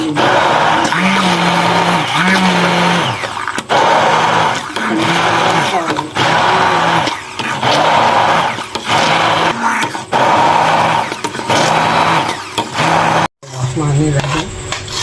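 A kitchen grinder whirs steadily while blending mint chutney, its motor droning loud and continuous in pulsing runs with a brief stop near the end, as someone talks over it.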